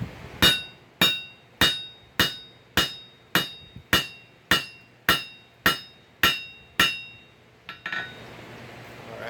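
Hot steel is hammered on an anvil while forging pick-up tongs: about a dozen evenly spaced, ringing blows, close and sharp, before the hammering stops.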